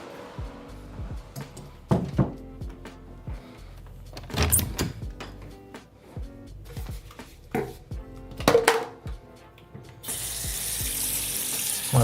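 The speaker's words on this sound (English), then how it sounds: "I'm gonna wash my hands real quick." Hands are washed under a running tap, with splashing and knocks against the sink in uneven bursts. A steady rush of water takes over toward the end, with no talking.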